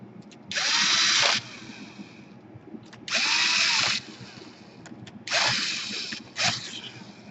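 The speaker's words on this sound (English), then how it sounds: "you plug in the hard drive and secure it with 2 screws" Electric screwdriver driving two screws to fix a hard drive into a Lenovo G560/G550 laptop, three loud whirring bursts of about a second each with a short final burst, close by and with no talk.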